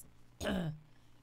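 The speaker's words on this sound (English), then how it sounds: "when the coughing starts," A single short, rough throat clearing from a person in a live chat, loud and close, with quiet room sound before and after.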